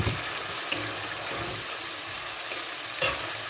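A spice paste thinned with bowl-rinsing water boils in a pan for a Bengali oil koi fish curry. It makes a soft, steady bubbling hiss with a few faint clinks and pops, and no voices.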